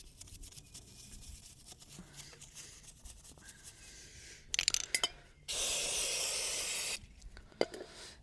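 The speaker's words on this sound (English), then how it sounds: "So what I'm going to do is give this a bit of a spray in here, clean it up a bit." Aerosol cleaner sprayed onto the clutch of a 49cc kids' mini dirt bike, heard as a loud steady hiss lasting over a second, preceded by short bursts and light clinks of handling up close, with no talking.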